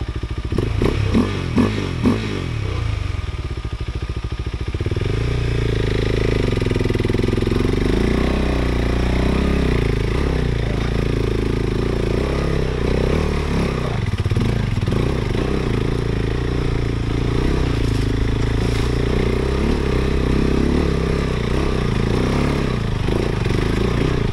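A KTM 390 Adventure motorcycle churns up a steep black diamond off-road trail, its engine droning loud and close throughout with revving surges, clattering and scraping over rough ground, and no talking.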